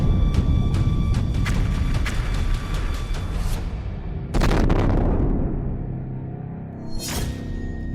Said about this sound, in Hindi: मिसाइलों और रॉकेट से आग के गोले बरस रहे हैं।